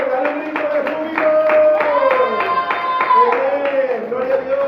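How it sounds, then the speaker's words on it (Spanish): Congregation in a church clapping in a steady, rhythmic beat, loud and close, with singing or voiced tones running underneath the claps. "Denle un aplauso grande al Señor."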